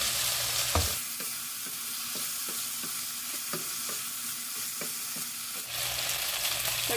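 Chicken frying in a pan, a steady close sizzle with a run of soft rhythmic scraping taps as it is stirred.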